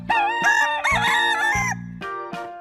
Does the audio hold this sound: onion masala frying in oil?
no